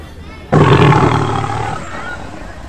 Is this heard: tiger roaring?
yes